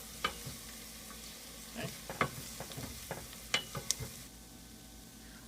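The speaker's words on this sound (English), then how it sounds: "once you've added all the flour, you want to stir it very often for a good 3 minutes." Flour roux for tomato bisque cooks in a pot while being stirred, with quiet sizzling and irregular spoon taps and scrapes against the pot; a voice speaks briefly once.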